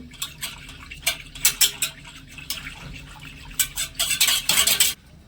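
Milk with cracked cardamom pods heats in a pot while a spoon stirs it, making intermittent bursts of scraping and clinking against the metal, with quieter pauses between strokes.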